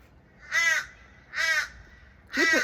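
Crows caw loudly three times in an even rhythm, each harsh call roughly a third of a second long and separated by short pauses, all close by and standing clear of any other sound.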